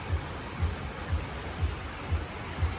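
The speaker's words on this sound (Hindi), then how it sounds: "अभी हो रही है भरपूर बारिश मनाली में।" Heavy rain falling in Manali under thick cloud, a soft steady hiss of drops with faint regular low thumps, moderately quiet and without voices.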